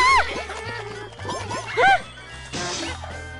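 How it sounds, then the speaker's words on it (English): A dog barks in the VR game The Playroom VR, several short yelping barks over background game sounds and music. "What do I hear? A dog."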